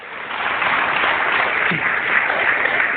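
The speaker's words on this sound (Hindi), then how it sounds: "जोरदार ताली होना चाहिए।" A crowd claps steadily as a continuous wash of applause, fairly loud and without pauses.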